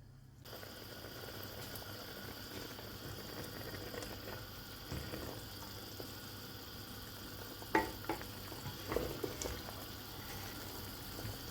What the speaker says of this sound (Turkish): Kazımız kaynamaya başladı.